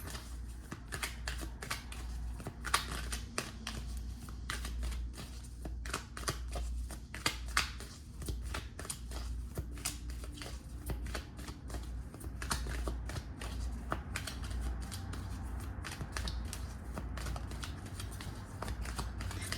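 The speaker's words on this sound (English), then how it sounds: "I'm going to pull additional cards." Tarot cards being shuffled and pulled from a deck, a quiet run of rapid riffling flutters and crisp clicks in irregular bursts, close up with no talking.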